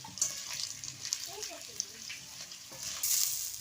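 Potatoes frying in a pan in a village kitchen, sizzling oil under a faint voice, with stirring scrapes and a louder burst of hiss toward the end.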